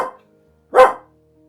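A single short dog bark rings out close and fairly loud in an otherwise quiet room, with a faint trace of sound just before it.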